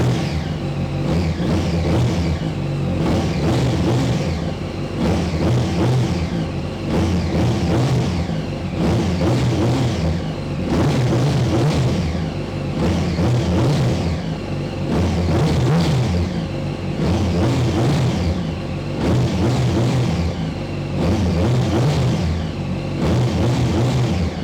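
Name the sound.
2007 Yamaha YZF-R1 engine with quiet stock muffler exhaust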